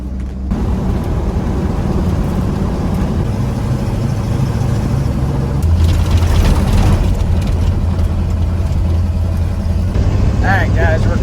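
A tow truck drives along a dirt road in the Ozarks, its heavy engine rumbling loud and steady up close, with the low drone deepening partway through and faint rattles over it.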